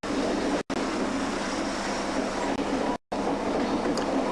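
Inside an old Canadian passenger train, a steady broadband rumble of the carriage rolls on continuously, broken by two brief near-silent dropouts, with no talking.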